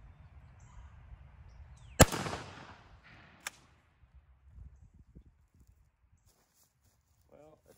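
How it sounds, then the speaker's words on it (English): A single loud 12 gauge shotgun shot with a 3-inch Remington turkey load, fired outdoors at a 20-yard target, a sharp blast with a short decaying tail, then a quieter click and faint rustling. "we'll take a shot, same load, 3-inch Remington turkey load,"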